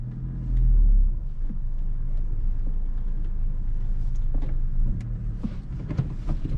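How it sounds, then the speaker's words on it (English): Steady engine rumble and road noise from inside a car fitted with a Stage 1+ tune on a first drive, a brief louder swell early on, then an even drone with faint interior clicks. "So we're gonna go for our first drive."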